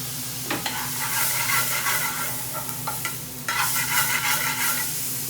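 Ingredients for a lamb sagwalla (BIR) being stirred and fried in a fast-cooking pan, a continuous close sizzle broken by repeated scraping strokes of the utensil, with no talking.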